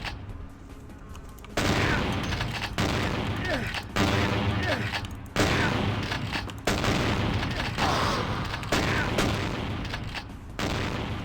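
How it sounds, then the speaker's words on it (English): Shotgun fire in the video game Vampire: The Masquerade - Bloodlines, a run of heavy booming blasts roughly every second or so, loud and close, with voices talking over the gunfire. "I think we need to bust out our old trusty shotgun. Do shotgun versus shotgun."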